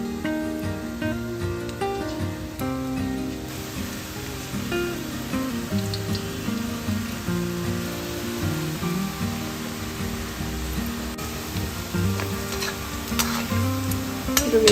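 Onion pakoda batter frying in hot oil over a medium flame, a steady close sizzle and bubbling that runs throughout beneath continuous background music, with no talking.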